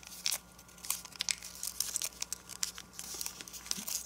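Origami paper being creased into a mountain fold, close, quiet crinkling and rustling in irregular bursts and small crisp crackles, with no voices.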